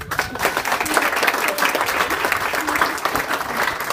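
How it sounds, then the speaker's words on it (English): Wedding guests applaud the best man, a dense, steady burst of many hands clapping close by, with a few voices faintly mixed in. "would you applaud for him likewise?"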